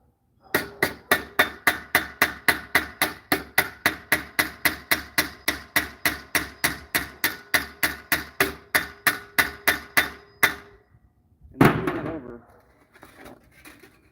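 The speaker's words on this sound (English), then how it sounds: "now we can take a little 5-ounce hammer" A small 5-ounce hammer taps steadily and rapidly setting rivets, about three strikes per second for ten seconds, followed by one heavier knock and a brief scrape.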